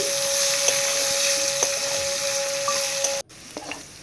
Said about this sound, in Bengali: একটু লবণ দিয়ে আলুটা ভেজে নিচ্ছি সুন্দর করে